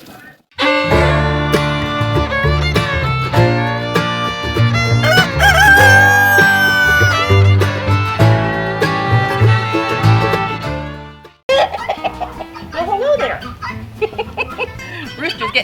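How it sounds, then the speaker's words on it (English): A rooster on a dog farm crows and clucks nearby, loud and repeated, with a person talking over it and a full tonal backdrop that fades briefly before resuming. "Rooster's getting nosy"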